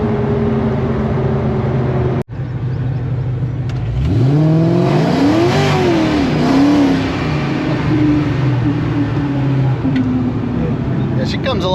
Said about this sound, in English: with a little baby hit, you can tell that blower comes on quick